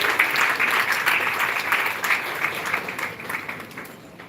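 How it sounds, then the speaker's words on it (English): An audience at a live bioethics session breaks into sustained applause, a dense wash of clapping that stays lively before tapering slightly toward the end. "Big round of applause, please."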